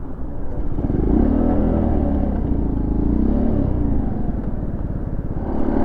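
Honda CT70 minibike engine held near its rev limiter at top speed, a loud, steady buzzing drone with rumbling wind and road noise throughout, no talking.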